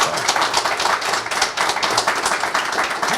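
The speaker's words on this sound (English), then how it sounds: "Let's give it one more round of applause for Jeremy." Audience applause closing an Executive Summit interview Q&A, a steady dense patter of many hands clapping for about three seconds at even loudness, with no talking over it.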